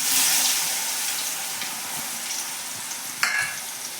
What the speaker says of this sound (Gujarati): આ બટેકાને આપણે એક મિનિટ સુધી તેલની અંદર આવી રીતે સતડાવા દઈશું